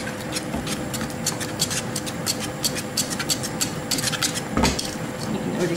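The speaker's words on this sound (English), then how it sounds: "Keep stirring, keep stirring." A spoon scrapes and clinks steadily against a pan while macaroni cheese sauce is stirred, a close rhythmic scraping over a soft background bubble.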